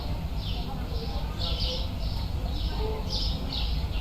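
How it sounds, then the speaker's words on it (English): Birds chirp repeatedly over a steady, dense background noise, with a continuous low rumble of drilling underneath, in the video game Supermarket Simulator. "I don't want the sound of the birds and drilling going on to really drown me out"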